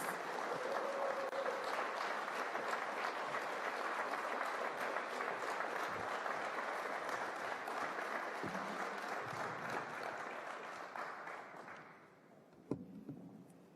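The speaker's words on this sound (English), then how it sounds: "Let's give her an applause as she comes." Sustained applause from the audience at a governor's bill signing ceremony, steady and fairly dense for most of the stretch, then thinning out near the end, where a few isolated claps and a brief bump are heard.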